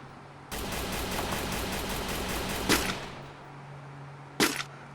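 Rapid automatic rifle fire in the Free Fire mobile shooter game, a steady loud burst of closely spaced shots lasting a couple of seconds, followed by a single sharp crack and then another short burst.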